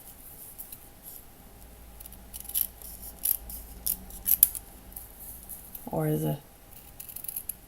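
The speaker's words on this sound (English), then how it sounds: "the little template and then cutting out the fabric here" Scissors cut out fabric close by in several quiet, irregular snips, with a short bit of talking near the end.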